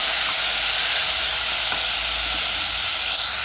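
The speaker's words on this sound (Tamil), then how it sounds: "இப்போ நம்ம வந்து ரெண்டு மீடியம் சைஸ் தக்காளி சேர்த்துக்கலாம் தக்காளி கொஞ்சம் நல்லா வதங்கட்டும்" Two medium tomatoes sauté in hot oil in a pan for a Tamil mixed rice dish, giving a continuous loud sizzle and hiss throughout with no talking.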